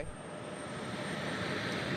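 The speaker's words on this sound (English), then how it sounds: "Plane after plane taking off." Jet airliners take off from a busy airport runway, a loud, steady roaring engine drone heard alone without talk.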